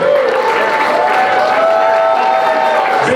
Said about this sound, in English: How about a round of applause for these young men?